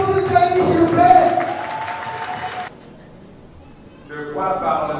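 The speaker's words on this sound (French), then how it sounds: "tout le monde peut applaudir Jaïli, s'il vous plaît." Applause and cheering from an audience at a literary prize ceremony in Cameroon fill the first few seconds under a speaking voice, then fade to quiet before talk resumes.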